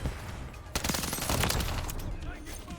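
A Striker gun fires in rapid bursts in Call of Duty: Warzone, a dense, continuous stream of sharp shots over background game noise, steady and loud from just under a second onward.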